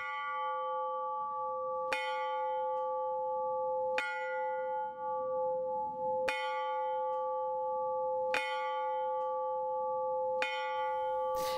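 A victory bell tolls in Zakarpattia, Ukraine, at the last settlement freed from occupation, marking the liberation anniversary: six loud, evenly spaced strikes about two seconds apart, each ringing on with a long metallic hum.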